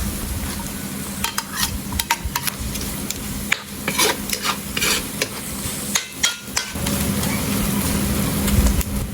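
Garlic, onion and ginger sauté in a hot pan, giving a steady close sizzle and frying hiss throughout, with occasional stirring scrapes and clinks of a utensil against the pan.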